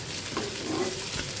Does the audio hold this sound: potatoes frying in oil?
yes